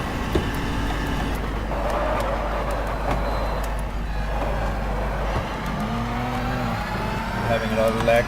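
A Peugeot 908 race car at full speed in the GTR2 racing game, its engine droning at high revs near 340 km/h, then a downshift with the pitch dropping and climbing again into the next acceleration.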